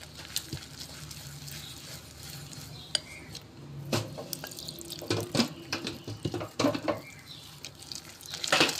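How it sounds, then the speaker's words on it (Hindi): Water is poured into pakora batter as it is stirred in a bowl, with soft wet sloshing, scraping and clinks of a utensil against the dish, growing busier and louder toward the end. "थोड़ा सा पानी और शामिल करेंगे"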